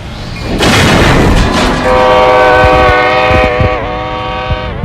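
A train crash in a video game: a loud, crunching impact gives way to a sustained, blaring horn-like tone that holds for several seconds before easing off slightly, with scattered thuds beneath it.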